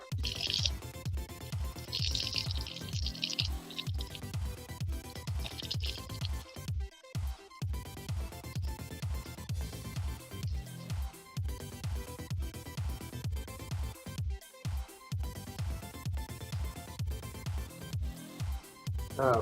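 Water runs steadily from a kitchen sink tap in a continuous soft stream with small splashing and dripping textures, fairly faint and uninterrupted, with no talking.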